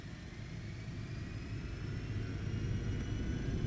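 A Citation X business jet begins its takeoff roll at Philadelphia in the X-Plane 12 flight simulator. Its engine roar is a steady, heavy rumble that grows slowly louder throughout, with no voices over it.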